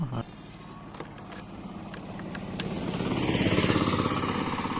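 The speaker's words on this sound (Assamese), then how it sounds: "ব'লক বাইকখন ষ্টাৰ্ট দি ঘূৰাই লওঁ।" A motorcycle starts up and turns around, its engine settling into a low idle before the revs gradually build into a louder, rising drone.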